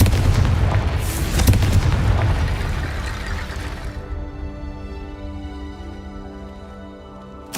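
A loud Confringo blasting-spell explosion from the Hogwarts Legacy game booms at once, with heavy low rumble and crackling debris, then decays over several seconds into a lingering tonal ring that fades out.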